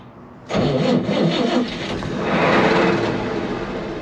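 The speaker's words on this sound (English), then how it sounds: "Now it's turning over fine, so let's see if this thing wants to run." A Chevrolet C20 pickup truck engine cranks and then fires up, giving a loud, rough, rising roar that settles into a steady run, heard close with no talking.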